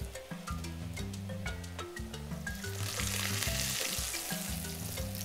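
Food frying in hot fat in a deep pan, a continuous close sizzle that swells and grows brighter partway through, with tonal sounds running underneath.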